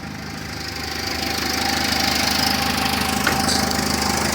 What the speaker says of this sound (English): The engine is not shaking. It sounds really smooth.